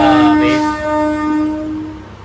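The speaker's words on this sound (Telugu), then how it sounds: "మన ట్రైన్ అయితే ఇప్పుడే గుండ్లకమ్మ స్టేషన్కి వచ్చింది. ప్లాట్ఫామ్ 1కి అయితే ఎంటర్ అవుతుంది అనమాట." A MEMU passenger train pulls into platform 1 at Gundlakamma station, a steady tonal hum or horn-like drone with layered harmonics held over low rumble, fading slightly toward the end.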